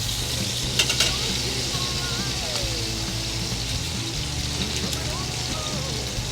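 Bacon frying in a pan with potatoes, a continuous close sizzle and crackle with a couple of brief utensil knocks near the start, and no talking.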